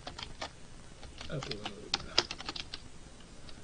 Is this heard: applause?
no